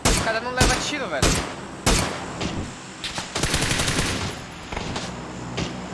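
Gunfire in the battle royale game PUBG, a run of sharp, loud shots fired in bursts with brief gaps, up close, with a player's voice briefly audible over the shooting.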